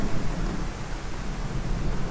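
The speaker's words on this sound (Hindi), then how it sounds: "ये प्रकृति में इतना चेंज हो रहा है, दिखाइए आप, झमाझम बारिश हो रही है।" Heavy rain pours down in a dense, constant roar with a low rumbling undertone, loud and unbroken throughout.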